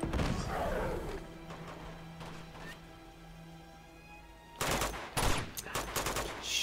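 Shotgun fire in Uncharted 2: Among Thieves, heavy broadband blasts clustered near the end, loud and close, following a stretch of droning in-game sound.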